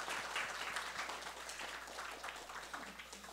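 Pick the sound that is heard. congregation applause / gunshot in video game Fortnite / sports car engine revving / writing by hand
congregation applause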